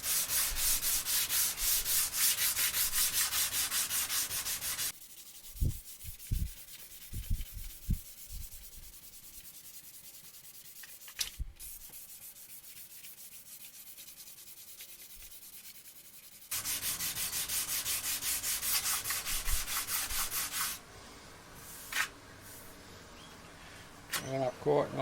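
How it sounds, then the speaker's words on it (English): Sandpaper rubs along the grain of a left-handed Tele-style electric guitar kit body, its veneer grain-filled. Two long, steady, close scratching passes are split by a quieter pause with a few knocks and thumps. "Always try and sand with the grain."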